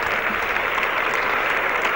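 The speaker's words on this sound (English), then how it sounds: "Big cheer for the Yorkshire left-hander." A cricket crowd at an England versus Australia Test match applauds steadily, a dense, even wash of distant clapping from the stands with no break.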